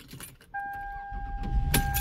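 A car's engine starting on a battery charged with a balance charger, heard as a sustained electronic tone from a push-button start, followed by a rising mechanical rumble and clicks close by.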